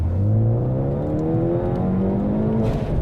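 Ford Focus ST accelerating hard with wheelspin, the engine note climbing steadily in pitch with a whirring drone and tire hiss, loud and continuous, no voices.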